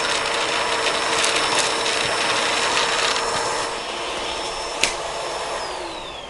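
A Bissell Pet Hair Eraser Turbo Plus vacuum hose sucks up popcorn, giving a loud, steady motor roar with a rattling intake and one sharp click near the end.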